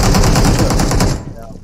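A loud, close burst of rapid automatic gunfire in PUBG Mobile, a dense rattling spray that cuts off abruptly near the end.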